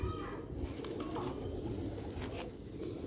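Old Sialkoti silver rooftop pigeons coo softly in low, rolling murmurs under a steady, rumbling outdoor background, with a few brief higher calls.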